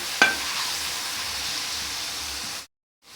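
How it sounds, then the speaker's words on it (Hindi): Ground tomatoes hit hot oil with cumin for lauki kofta, starting with a sharp splash that turns into a steady close sizzle, which stops abruptly near the end. "अब हम इसमें पीसे टमाटर और इसे हम 5 मिनट तक भून लेते हैं।"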